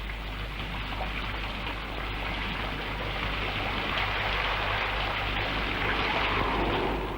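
Rain falling steadily, a dense continuous hiss of drops with a low rumble underneath, even and unbroken throughout.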